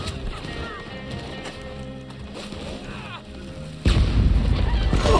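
A loud, sudden gunshot blast in the Red Dead Online video game near Valentine cuts in after several seconds of quieter game ambience and hoofbeats, followed by sustained heavy noise.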